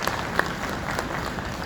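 A hall audience at a Ugandan ministerial session gives a brief burst of clapping: scattered, moderately loud claps spread across under two seconds, with no voices on top.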